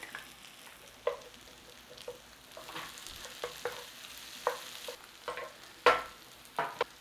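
Onions and garlic fry in a pan with a soft sizzle, while a utensil stirs and scrapes in quiet, irregular knocks; no one speaks.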